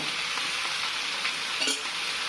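Curry leaves frying in oil for a Kerala-style chicken curry, a dense continuous hiss and sizzle with a faint stir near the end, close and alone.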